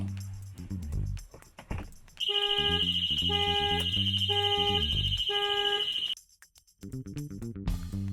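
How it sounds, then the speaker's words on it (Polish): A camper van alarm set off by a window sensor, sounding a loud, piercing electronic tone in a repeating pulsed pattern for several seconds, with beeps before and after. "czujnik, który odpowiada za uruchomienie alarmu w każdej sytuacji, kiedy ktoś to okno próbuje otworzyć"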